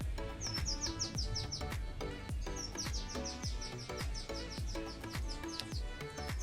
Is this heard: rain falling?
no